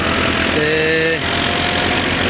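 A 2010 Massey Ferguson MF 375 tractor with a WSK pump drives a wheat thresher at night, a loud, close, steady engine drone with a brief whining tone partway through.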